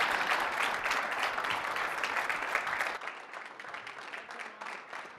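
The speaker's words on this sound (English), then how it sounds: "Let's give Jason a big round of applause." Audience applause, moderately loud clapping for a guest that thins out about halfway through and then carries on more quietly to the end.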